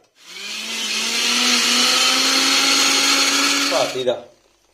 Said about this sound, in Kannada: ಈಗ ಮಿಕ್ಸಿಗೆ ರಜ ಹಾಕಿ ನುಣ್ಣಂಗೆ ಕಡಿಕ್ಕಿದರ